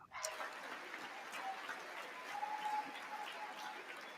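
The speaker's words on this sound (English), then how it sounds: "Black ladies clapping funny." Applause from the chamber during the 2023 State of the Union address, a steady wash of clapping held at moderate distance for several seconds with faint voices mixed in.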